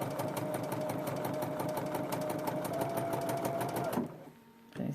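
A BERNINA sewing machine fitted with a wide gathering foot stitches fabric in a fast, even, rapid clatter for about four seconds, then stops abruptly and briefly starts again.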